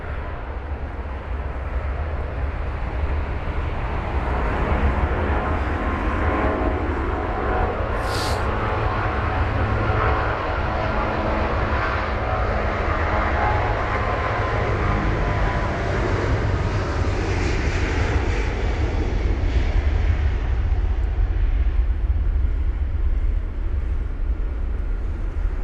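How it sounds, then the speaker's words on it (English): Boeing 777-200ER jet taking off at London Heathrow through wet runway spray, heard as a long, very loud, close engine roar with deep rumble that holds steady throughout, alone with no voices. "That's the Boeing 777-200 ER for you."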